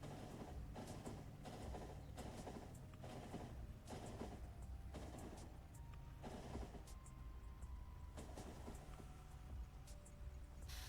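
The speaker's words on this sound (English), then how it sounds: "The train is a-working. There it goes." A train in the Factorio video game runs along a long rail loop, a steady mechanical rumble with regular rhythmic pulses throughout and no talking.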